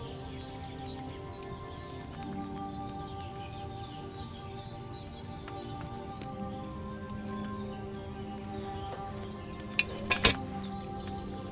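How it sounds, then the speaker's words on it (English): A cauldron of wine brewing a potion over a flame in Kingdom Come: Deliverance II bubbles as it boils, a steady soft fizzing simmer throughout, with a few louder pops near the end. "Hear that bubbling? It's boiling."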